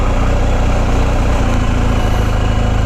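A BMW R 1250 GS Adventure motorcycle from 2019 idles steadily and close by, its low engine throb continuous and loud with no voices over it.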